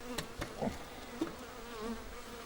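Agitated honeybees buzz around a beehive, a steady close drone with individual bees zipping past the recorder, loud and continuous with no talk.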